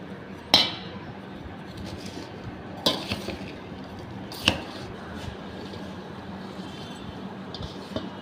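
A spoon clinks sharply against a dish while Andhra-style mango pickle is mixed with salt and chili powder: three distinct clinks spaced a few seconds apart over quiet, soft stirring.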